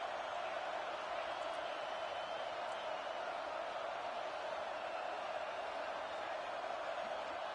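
A dense, steady roar from a home football crowd in NCAA 26, a constant wash of noise holding at an even level throughout, with speech faintly mixed in.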